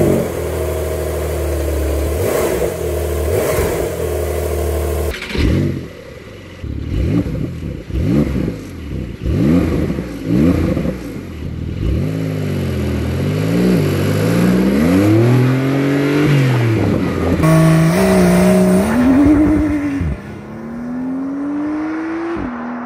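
A Porsche 911 992 Carrera S Cabriolet with a flat-six engine and sport exhaust idles, then revs repeatedly in sharp loud blips, climbs through long sweeping revs, and settles back toward idle, all close and without talking.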